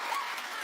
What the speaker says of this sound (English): Are you applauding like some kind of white power rally?